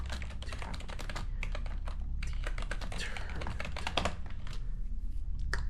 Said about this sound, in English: Still kind of a slow typer.